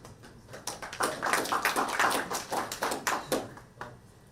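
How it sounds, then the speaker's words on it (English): An audience at an event on the 1975 "Zionism=Racism" resolution claps for a speaker, a moderate round of distinct, slightly uneven hand claps that builds and then tapers off, with quiet room noise beneath. "Don't clap"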